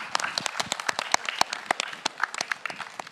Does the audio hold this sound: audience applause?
yes